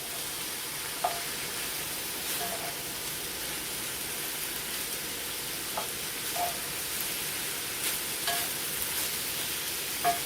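Ground beef, about a pound, frying in a single pot for an unstuffed pepper casserole, giving a steady close sizzle throughout with occasional brief clinks and scrapes of stirring, no voices.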